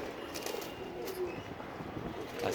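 Baga and Chapshila breed pigeons coo softly and repeatedly against a steady hiss, with a few low coos standing out near the end and no talking.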